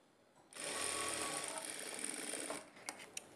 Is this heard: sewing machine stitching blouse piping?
yes